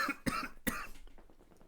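A person coughs twice in quick succession, close and clear, followed by a short rough exhale.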